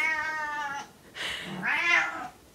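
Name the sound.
cat meowing as it comes into the room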